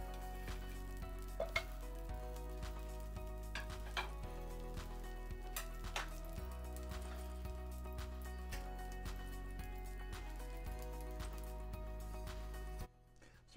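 Three tablespoons of butter melt in a soup pot with a soft, steady sizzle, set under continuous background music.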